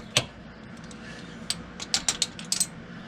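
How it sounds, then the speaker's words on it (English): A ratchet wrench is popped off a bolt and spun while relocating the fuel filter on a VW Beetle engine. It gives a quiet run of sharp, light metallic clicks in irregular bursts over a faint steady background. "Let's pop the ratchet off and spin it out of the way"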